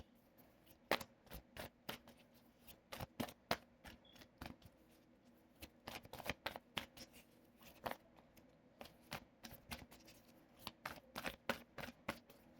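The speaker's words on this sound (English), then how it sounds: "Shuffle for Gemini." Soft, quiet tarot card shuffling: irregular bursts of crisp slapping and riffling clicks, close by, continuing steadily with no talking.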